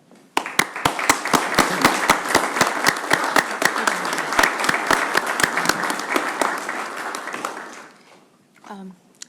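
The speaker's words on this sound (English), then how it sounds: "we should give them another round of applause for the work that they've done" Applause at a county commissioners' meeting, a crowd clapping steadily and fairly loudly with a few sharp prominent claps, fading out, followed by a short spoken phrase.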